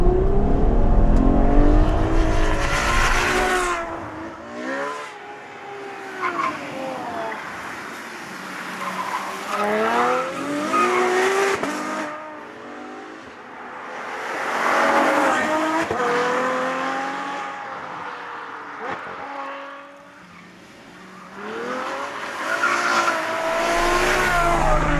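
A Ferrari F12 Berlinetta driven flat-out: a loud V12 engine wails up through the gears in repeated rising sweeps, with tire squeal and passing roar swelling and fading over the run.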